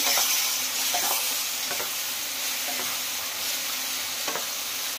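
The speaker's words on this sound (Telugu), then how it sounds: "సో కొంచెం లైట్గా మగ్గిన తర్వాత రొయ్య పొట్టు వేసుకుంటాం. సో ఒకసారి మిక్స్ చేసుకుంటామండి." Brinjal curry with dry prawn shells stirred in a pan over a continuous soft sizzle, with occasional light scrapes and taps of the spoon against the pan.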